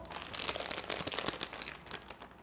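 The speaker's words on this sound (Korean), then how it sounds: "짤주머니 안에 모양 깍지를 넣어주시고" A plastic piping bag crinkles and rustles steadily up close as a decorating tip is pushed inside, dense crackling handling noise with no talking, while making pumpkin rice cupcakes.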